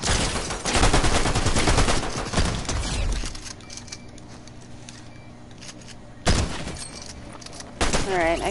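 Fortnite gunfire in rapid bursts, dense crackling volleys for the first few seconds, then a quieter stretch before more loud shots return near the end.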